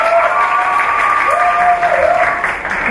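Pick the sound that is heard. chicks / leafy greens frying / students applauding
students applauding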